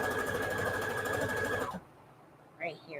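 Sewing machine stitching fabric for a soft journal cover, a steady rapid mechanical whir close by that stops abruptly partway through, followed by quiet and a short spoken remark.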